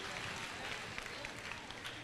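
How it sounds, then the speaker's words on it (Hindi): An audience at a religious discourse applauds for a little girl, a faint, steady wash of clapping from a crowd heard at a distance. "वाह, तालियां बजा दो"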